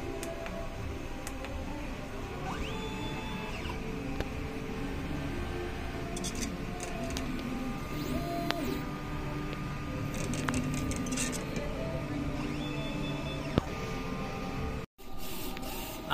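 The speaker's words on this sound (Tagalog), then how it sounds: "Nozzle test." DTF printer running a nozzle test, a continuous mechanical hum with clicks and whirs of the print head moving, steady and close, ending in an abrupt cutoff.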